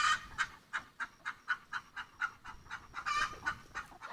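A hen clucks in a steady, evenly spaced run of about a dozen short calls, fairly faint and close, with a slightly louder burst near the end and no talking.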